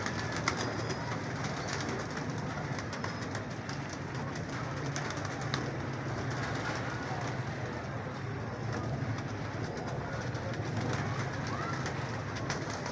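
Pigeons coo softly and repeatedly against a steady background rumble, with faint voices now and then.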